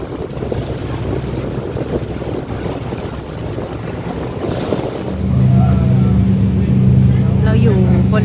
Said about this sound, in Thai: เรือลำเล็กนะคะที่เป็นเรือชูชีพของไมชิป เขารับส่งเราจากท่าเรือที่ เมืองคานแล้วก็ไปขึ้นเรือไมชิป